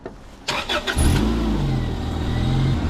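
Honda car engine cranking and catching: a few rapid starter whirs, then the motor fires and settles into a loud, steady idle, close up with no talk.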